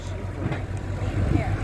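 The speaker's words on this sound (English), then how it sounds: "do they have two different tractors running hayrides?" A farm tractor pulling a hayride rumbles with a low, steady engine drone outdoors, heard briefly from nearby beneath people chatting.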